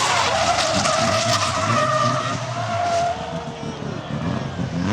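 Drift cars skid at a drift championship at Mondello Park, Ireland, producing a loud, continuous tire squeal with shifting pitch over roaring engines, sustained throughout with a slight dip in intensity partway through.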